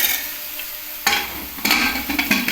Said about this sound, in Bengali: এবার একটু মুগের ডাল দিয়ে দিচ্ছি